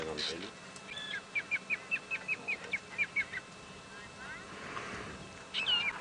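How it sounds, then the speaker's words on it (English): Guinea fowl give a rapid series of harsh, rhythmic alarm calls on a sunset safari drive, about a dozen evenly spaced cackles at moderate distance, followed by a louder call near the end, with vehicle rumble and occasional talking. "while the guinea fowl were alarm calling"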